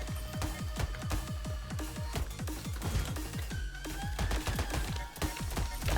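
Rhythmic gunfire in the rhythm shooter BlasterBeat, evenly spaced punchy shots firing in steady time with music, loud and continuous, no talk.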